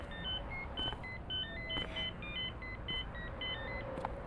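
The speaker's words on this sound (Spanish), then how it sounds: "Ah, te están llamando. Pero así no suena mi celular." A mobile phone rings from inside a backpack with a faint, repeating electronic melody of short beeping tones over low background hum.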